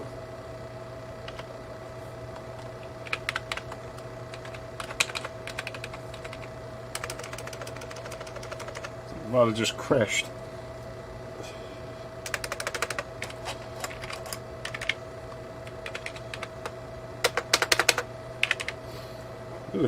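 Clattering computer keyboard typing in irregular bursts of quick key clicks with pauses between, close up; a man mutters briefly partway through.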